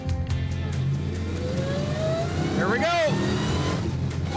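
A fast GYC car accelerates hard through the gears, its engine note rising steadily before a gear change and climbing again, heard from inside under a man's brief spoken remark.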